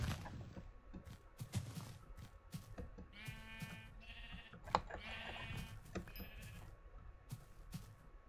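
Sheep in Minecraft's Tekkit Classic modpack bleat repeatedly in short wavering calls over game ambience and scattered clicks and thuds, fairly close, with no talking.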